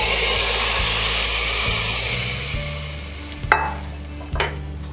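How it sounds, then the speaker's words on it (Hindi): Hot tadka tempering sizzling as it is stirred into kadhi, a loud frying hiss that fades over a few seconds, followed by a couple of sharp spoon clinks against the pot. "ये जो तड़का है ये हम इस कढ़ी में मिला देंगे"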